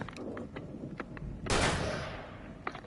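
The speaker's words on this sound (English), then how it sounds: "Oh, I could just shoot it." A single gunshot fired in the video game Alan Wake, one sharp loud blast with a short decaying tail, surrounded by quiet ambient game noise.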